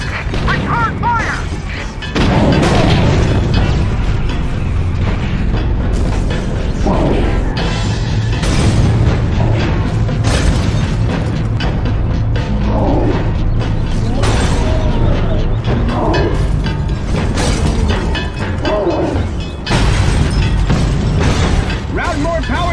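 Turret fire and explosions from The Incredible Hulk video game pound away in loud, dense bursts, mechanical clanks and booms layered over a rumbling score, with commanding voices shouting over the action.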